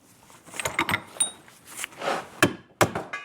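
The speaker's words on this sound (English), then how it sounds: "Basically, we're just ripping the rivets apart." A hammer knocks out the control arm rivets on a 1978 Corvette with irregular metallic blows and clinks, several sharp nearby strikes in a small workshop.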